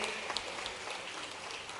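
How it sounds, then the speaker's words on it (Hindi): Audience applause for the prime minister at a school inauguration event in Berasia, heard as a dense, steady wash of clapping lasting a couple of seconds, fairly faint and distant. "आइए यशस्वी प्रधानमंत्री के लिए जोरदार ताली बजा के अभिनंदन करें।"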